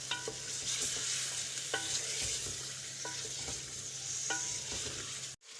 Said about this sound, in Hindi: ये थोड़ा सा मैं इसको फ्राई करके फिर मसाला डालूँगी।